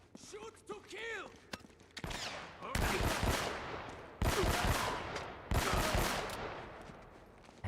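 Gunfire in Uncharted: Drake's Fortune comes in several loud bursts of rapid shots and heavy impacts, with a voice shouting briefly at the start before the firing takes over.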